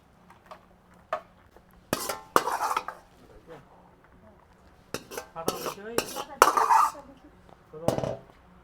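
Metal utensils clink and scrape against dishes and containers in irregular bursts as Schezwan fried rice is plated and packed for a parcel order, with quiet gaps between.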